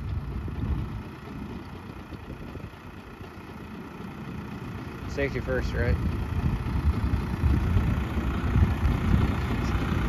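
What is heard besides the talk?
New Holland tractor engine idling after PTO turned off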